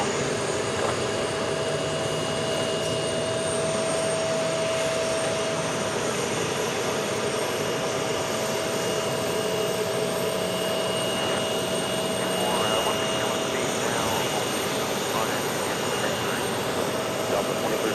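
A jet aircraft on short final for landing at New York's JFK airport, its engine roar a steady, broad drone throughout, with faint radio chatter beneath.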